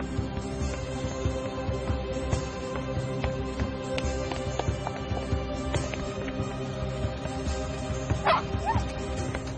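A dog barks several times against a busy background that includes clopping hooves and other faint activity.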